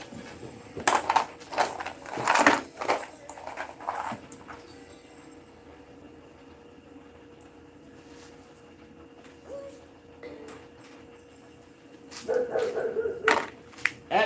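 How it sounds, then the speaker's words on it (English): A dog barks in several loud bursts near the start, goes quiet through the middle, then barks again toward the end, with faint clatter in the background. "That's actually Diva barking, making all that damn racket."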